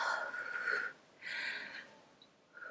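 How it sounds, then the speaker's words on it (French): Forced, exaggerated breaths used to calm anxiety, two long airy exhalations close to the microphone with a pause between, and the start of a third. "Donc ça sera des respirations."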